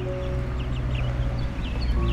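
Young chickens in a backyard coop give scattered, faint peeps and clucks over a steady low hum, with no voices.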